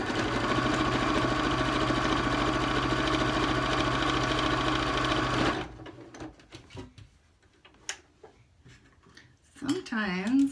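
A sewing machine stitches a fabric face mask with a steady, close mechanical whir for about five seconds, then stops; quiet handling clicks follow, and a brief voice is heard near the end.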